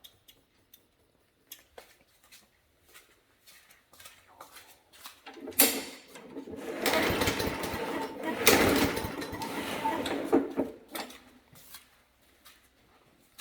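A Briggs & Stratton 300 series lawn mower engine that won't start, primed and cranked: light clicks, then a rough roar of running engine for about five seconds before it fades and stops.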